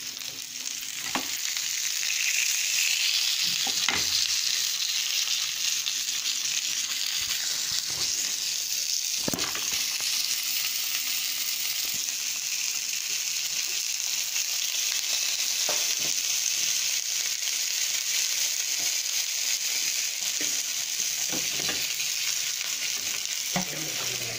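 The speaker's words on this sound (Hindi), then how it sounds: "थोड़ा सा हम इसमें बटर डाल के तो अपनी जो पैटीज़ हैं उनको तैयार करते हैं" Beef and chicken burger patties fry in butter with a steady, bright sizzle throughout, broken now and then by short scraping stirs and clicks, close and continuous with no talking.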